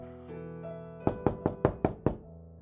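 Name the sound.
knock on a door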